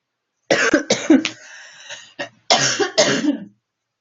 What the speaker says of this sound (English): when I'm coughing, it's hurting